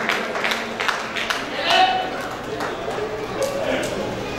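An audience at a stage event in Saudi Arabia applauds the event organizer, a dense patter of clapping heard indoors and fairly close, rising briefly and then holding steady.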